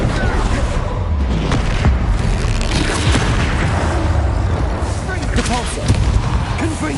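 A Bombarda explosion spell from the video game Hogwarts Legacy, part of a continuous roar of heavy booms and blasts from spell combat, loud and dense throughout with voices shouting over it.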